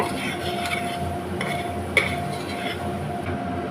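Chilli powder is stirred into a tomato masala for a green pea salna in a pan, with a continuous low sizzle and repeated soft scraping and clinking of a spoon against the pan, close and moderately loud.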